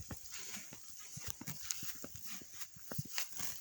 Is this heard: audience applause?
no